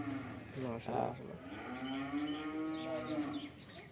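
A cow at a dairy farm raising cattle for Qurbani gives a long, drawn-out moo that rises and holds for several seconds, close and fairly loud over faint background noise.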